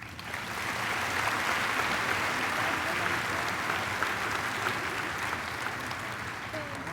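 An audience at a 2007 high school commencement applauds a valedictorian as she receives her medallion, a dense, sustained wash of clapping that rises quickly and holds steady, with faint crowd noise mixed in.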